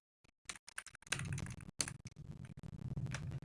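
Code being typed on a computer keyboard at close range: sparse separate key taps at first, then a dense, steady clatter of keystrokes with a few short pauses and no talking.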